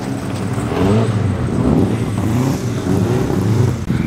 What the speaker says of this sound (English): Really torquey engine and a great sound from that 6-cylinder engine.